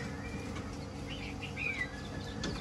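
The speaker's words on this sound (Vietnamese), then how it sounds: "Em họa mi trống này à" A male hwamei songbird gives a few short whistled notes, thin and fairly close, over a steady low background hum.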